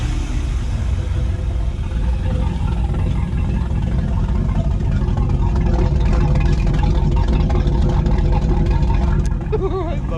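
A motor runs with a swapped heat exchanger, giving a loud, close, continuous rumbling drone at an even pace throughout, with a brief higher warble near the end.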